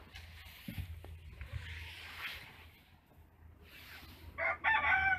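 Chickens cluck faintly and a rooster crows near the end in a poor rural yard in Tajikistan, with low background hum and soft noises throughout.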